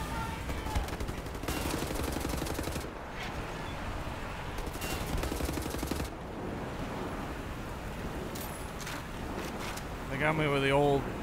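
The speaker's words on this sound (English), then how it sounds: "Exploding barrels." Loud, sustained blasts and gunfire fill combat in Wolfenstein: The New Order as barrels explode in broad, crashing bursts, with a voice heard briefly near the end.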